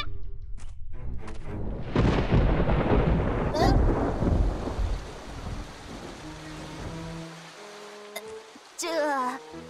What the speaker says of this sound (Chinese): 吉吉，你不是说不会下雨吗？